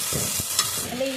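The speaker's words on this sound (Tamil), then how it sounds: "நல்ல இஞ்சியை நல்லா வதக்கிடணுமா" Ginger frying in a pan for homemade chicken biryani, a steady close sizzle with a brief stirring scrape, over about a second.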